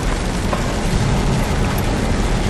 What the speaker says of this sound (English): it is absolutely raining out there